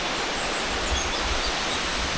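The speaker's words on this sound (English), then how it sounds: "hiking in the jungle next to a waterfall" A jungle waterfall pours nearby in a hiking setting, a dense, steady hiss of falling water that fills the whole moment without variation.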